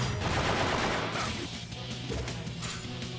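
Barrage special attack in the video game Tales of Graces f: a dense, noisy flurry of rapid impacts and crashing bursts, loudest at first and then easing into a sustained clattering rumble.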